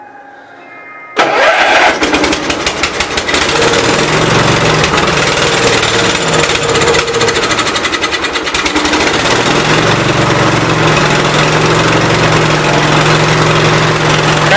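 A 1988 Gravely 12G tractor with fuel problems cranks and fires up after a brief quiet start, then settles into a loud, steady close idle with a slightly uneven pulsing beat.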